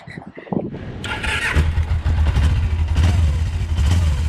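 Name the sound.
cafe racer motorcycle engine starting, struggling to idle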